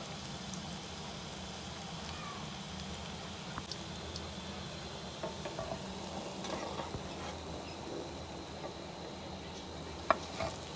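Dahi vada batter frying in hot oil gives a steady, dense sizzle throughout, close and even, with a few faint clicks and taps from a utensil.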